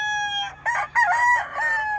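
A stud gamecock rooster of the Cowan line crows loud and close, a long drawn-out cock-a-doodle-doo filling the short stretch, with no talk.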